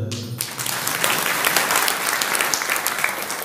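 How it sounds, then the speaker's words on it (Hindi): A crowd breaks into loud, sustained applause, dense clapping that continues steadily after a voice briefly speaks at the start. "ताली बजा"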